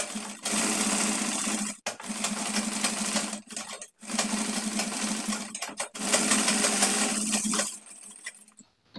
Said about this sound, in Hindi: अब हमें सिलाई लगा देनी है मैच करके।